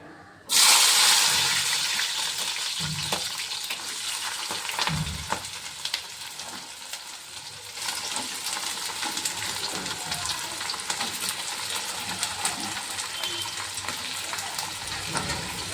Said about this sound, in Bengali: চলো আমি এই সবজিগুলো তেলে মানে কড়াইতে দিয়ে দিই